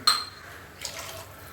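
A brief splash of water poured into a cooking pot of rava kichdi, with a faint clink of metal at the start and soft sloshing after.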